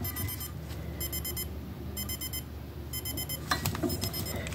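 Buzzer alarm on a GPX R300SRS armband radio beeping in four repeated bursts of rapid pulses, separated by short gaps, heard close over a steady background hum.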